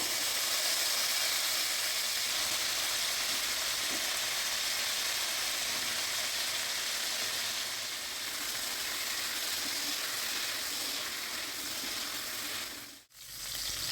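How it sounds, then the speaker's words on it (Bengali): Cauliflower florets fry in hot oil in a steady, close, even sizzle that hisses continuously, with no talk over it. "এবার বাকি তেলের মধ্যে ফুলকপিগুলো ভেজে নেবো"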